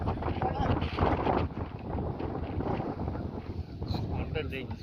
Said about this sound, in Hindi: अरे भाई क्या हवा चल रही है।